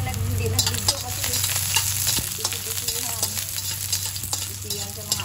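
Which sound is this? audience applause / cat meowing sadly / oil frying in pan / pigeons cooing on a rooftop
oil frying in pan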